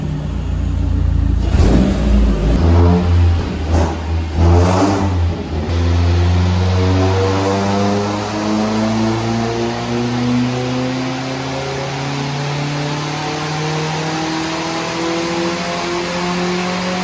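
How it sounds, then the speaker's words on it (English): Car engine revving hard on a dynamometer in a tuning workshop, loud and close, surging up at first, then holding a long steady high-rpm drone that slowly climbs in pitch. "Oh, I do love watching the dyno, I tell you."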